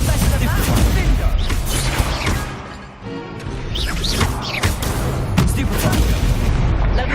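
Confringo spell explosions in the Hogwarts Legacy video game, a rapid string of booming blasts and crashes mixed with other spell effects, loud and dense, with a short lull in the middle before the bursts resume.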